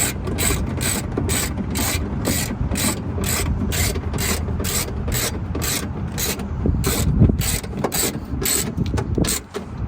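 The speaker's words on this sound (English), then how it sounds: "We're just going to go ahead and start tightening it down." A ratchet tightens bolts on a Honda Civic Coupe driver-side window regulator, sounding as a rapid, regular series of sharp clicking strokes repeating steadily for ten seconds, close up and without talk.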